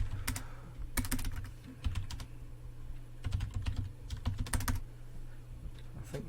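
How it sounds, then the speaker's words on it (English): Typing on a computer keyboard while configuring Cisco router OSPF, bursts of quick clicky keystrokes separated by short pauses, close to the microphone over a low steady hum. "I think the typing is actually something you can get better with as you progress."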